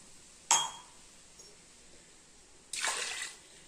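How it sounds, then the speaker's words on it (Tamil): Water is poured into a cooking pot holding halved potatoes, a green chili and salt for Kumbakonam kadappa sambar. A sharp metallic clink comes first, then a short rushing splash of pouring, close by with no talk. "அப்புறம் கொஞ்சம் தண்ணி ஊற்றிக்கலாங்க."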